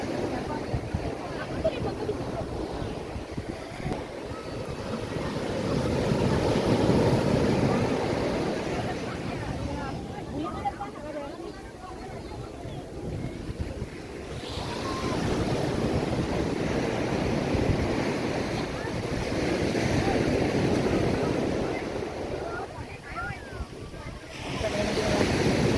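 Ocean waves roll in at a free public beach in Singkawang with a continuous, surging wash that swells and eases in slow cycles, mixed with wind buffeting the microphone and occasional voices.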